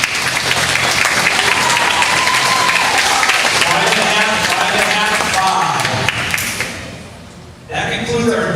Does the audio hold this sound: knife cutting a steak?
no